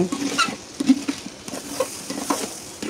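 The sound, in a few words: stirring and sautéing chicken with salt in a pan on a clay stove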